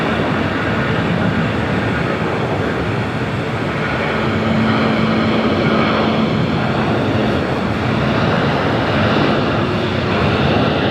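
Converted Airbus A330 freighter of Moss Air Cargo rolling for takeoff on runway 25R at LAX, its jet engines giving a loud, steady, building roar that fills the scene with no talk.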